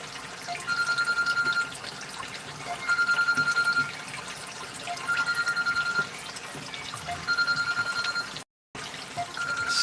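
An electronic alarm rings in repeated short bursts of high beeping, four or five cycles evenly spaced, over steady running water from an aquarium water change.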